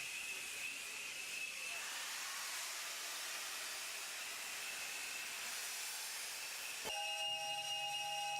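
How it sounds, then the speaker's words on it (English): Steam locomotive on a safari steam service along the Mombasa-Voi line: a steady, loud roar of hissing steam fills the scene, then a sharp, sustained whistle blast joins in near the end. "the shrills of steam and all the other noises, smells and mechanical clatter that make up the magic of steam locomotion"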